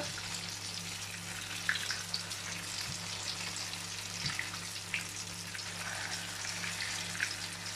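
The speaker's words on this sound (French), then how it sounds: "ça cuit vite hein, parce que c'est râpé fin et c'est pas très épais" Thin galettes of finely grated potato fry in a pan with a steady, even sizzle that goes on throughout. Occasional soft taps and clicks from a fork are heard nearby, and no one talks.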